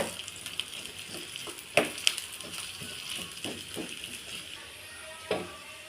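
Onions fry in a pan for chicken biryani, giving a low continuous sizzle with scattered spatula scrapes and two or three sharper clinks, close by and with no talking.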